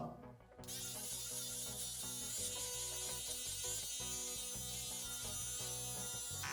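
Electric hair clippers run continuously at close range while cutting the side of someone's hair, a steady loud buzzing hum that starts abruptly and holds constant throughout.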